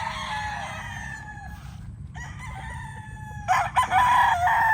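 Black Gilmore gamecocks, local banded stags tethered in a row, crow loudly in long drawn calls, one after another with overlapping crows near the end, over a steady low hum of background noise.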